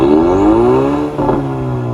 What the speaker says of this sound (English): A nice little volley of exhaust.